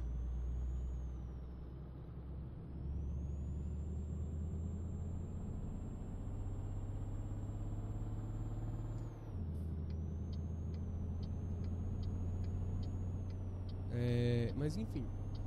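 A truck in a driving video game growls under engine braking as a steady, low mechanical drone with a high whine above it. The drone shifts pitch partway through, and a short hissing burst comes near the end.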